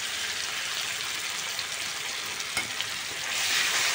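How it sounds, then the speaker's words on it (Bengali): Chopped tomato and onion sauté with salt and ginger paste in a hot pan, making a dense, even sizzle. A single stir clatters against the pan partway through, and the hiss swells slightly toward the end. "লবণ দিয়ে ভালো করে একটু কষায় নেবো"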